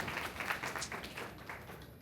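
Gala audience at a 15-year anniversary event claps in a quick, fairly faint patter of many hands, a steady crowd applause that fades slightly toward the end, with no voices over it.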